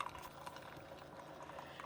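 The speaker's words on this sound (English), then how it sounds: "It's got a pretty nice stream that comes out." Steady hot coffee stream pouring from a Keurig K-Express coffee maker into a cup, a continuous soft liquid hiss and patter at low volume with no breaks.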